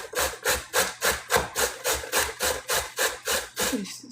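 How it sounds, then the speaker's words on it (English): Carrots rubbed down a box grater in steady strokes, about a dozen rasping scrapes at an even, brisk rhythm, loud and close with nothing else over them. "for the carrots, instead of cutting it, we're gonna just use the box grater"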